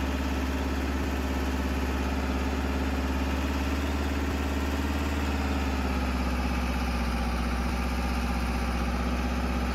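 Tractor engine idling in Farming Simulator 22, a steady, unbroken mid-low drone with a constant hum that holds alone throughout with no talking.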